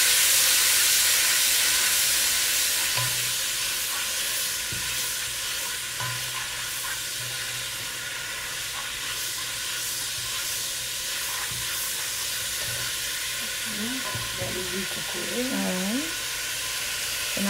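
Cornmeal porridge (mayi moulin) with salted codfish being stirred in a pot, a steady hiss of simmering with scraping spoon strokes over a continuous background, no talk.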